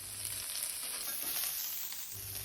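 Green chillies and crushed ginger fry in oil in a pan for multigrain upma, giving a soft, steady sizzle that holds quietly and evenly throughout.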